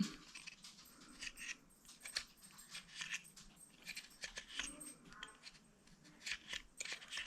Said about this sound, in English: And so you probably hear his collar.